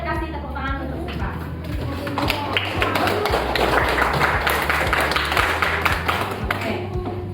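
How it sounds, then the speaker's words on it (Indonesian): Classroom applause for a student from a group of schoolchildren, a dense continuous clatter of many hands clapping at steady loudness, with a low hum running underneath throughout. "Kita boleh kasih tepuk tangan untuk Sipa."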